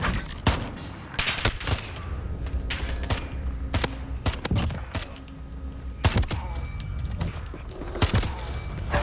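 Gunshots in a Modern Warfare match ring out as sharp, loud single cracks and short bursts at irregular intervals, with mechanical clicks and thuds between them.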